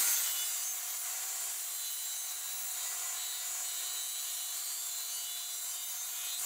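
A saw cuts a back bevel on a vinyl plank stair tread, a continuous hissing rasp of steady strokes, close and alone.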